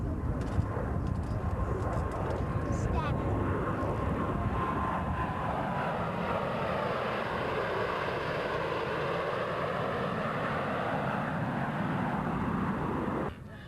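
Military jets fly a tuckaway cross at an Air National Guard air show, a steady, broad engine roar that swells and sweeps across the sky before cutting off sharply at the end.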